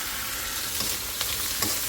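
Farmed fish pieces frying in a pan, a loud continuous hiss and crackle with a few sharp stirring clicks near the end, no voices.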